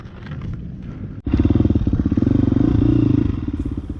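A KTM 350XCF dirt bike with full factory suspension being ridden on a demo day at Skyline, the engine idling roughly before a short cut, then revving loud and close in a rapid pulsing drone.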